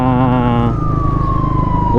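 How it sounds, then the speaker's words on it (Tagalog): An ambulance siren wails loud and close, its rising and falling tone sliding down, with traffic rumble underneath. "Yung ambulansya namin yan napakabilis."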